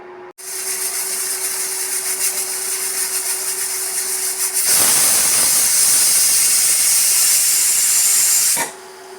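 A steady loud hiss of escaping steam from a pressure cooker whistle while chicken cooks, swelling stronger midway, then cutting off abruptly near the end.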